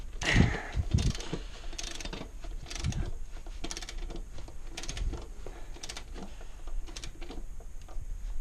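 Spanner tightening the main rear wheel bolt on a Suzuki VanVan motorcycle, irregular metallic clicks and scraping taps spread across the clip, fairly close and quiet.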